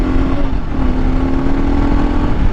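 A Kawasaki KLR 650 dual-sport motorcycle under throttle on an off-road trail, its engine a steady, close drone with a rising tone, dropping into a lower gear partway through, with no talk.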